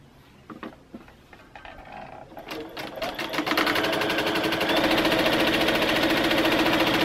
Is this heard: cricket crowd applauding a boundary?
no